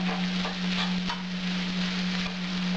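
Carrot and onion stewing together in a pan, a steady close sizzle with faint crackles over a constant low hum, no talking.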